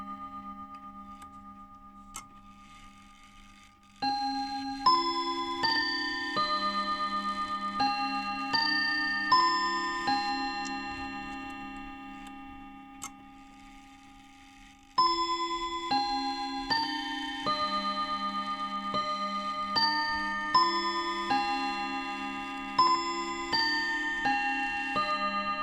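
A foreign mantle clock runs with a steady, regular tick alongside bright, ringing chime tones that strike in repeated descending sequences, loud and close, with no voices.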